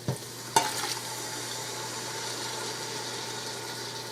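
A spoon stirs a big 28-ounce can of diced tomatoes into a bubbling hamburger stew, with a clack at the start and a soft steady sizzle and simmer underneath, no talking.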